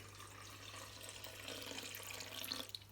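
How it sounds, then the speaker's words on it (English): Room-temperature water is poured onto sourdough starter in a bowl, making a soft, continuous trickle and splash that grows slightly louder before tapering off, faint over a low steady hum. "I will put 300 grams of room temperature water in with it."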